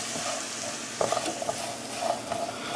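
Candied pecans with a splash of vanilla are stirred in a hot pan over lowered gas, giving soft, steady scraping and stirring close by with a faint sizzle underneath and no talking.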